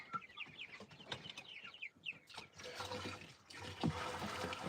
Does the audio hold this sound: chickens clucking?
yes